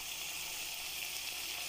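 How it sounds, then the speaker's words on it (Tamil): A garam masala sauce for chilli bread bubbles in a pan as it starts to boil, giving a faint, steady, even sizzling hiss with no talking. "பாருங்கள், பாயில் ஆக ஆரம்பிச்சிச்சு."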